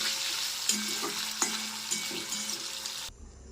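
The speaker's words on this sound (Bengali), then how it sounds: "এই যে আমার বাদাম আর পনির কিন্তু ভাজা হয়ে গেছে" Paneer pieces and peanuts frying in hot oil, a steady crackling sizzle broken by a few spatula scrapes and stirs, close by and fairly loud, cutting off abruptly near the end.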